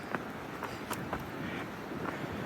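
Wind gusts across the microphone on a sunny hiking trail near Skyland Resort, making a continuous low roaring rumble with irregular buffeting bursts, close and fairly loud, with no talking.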